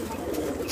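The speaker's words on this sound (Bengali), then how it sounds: "এই যে একজোড়া সেট কবুতর" A pet pigeon from a pair kept in loft boxes gives one brief, close, low coo.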